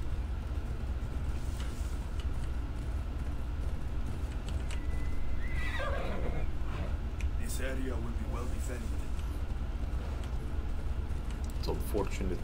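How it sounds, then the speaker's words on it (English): A horse in the video game Assassin's Creed Odyssey whinnies and neighs several times over steady clip-clopping hooves, with someone talking over the game sounds and a low continuous rumble underneath. "For some reason this horse, she's not wanting to go."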